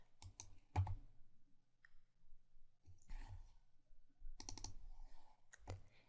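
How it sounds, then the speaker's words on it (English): A computer mouse gives quiet, scattered clicks in small clusters of two or three, with pauses between them and no talking. "I'm clicking Finish."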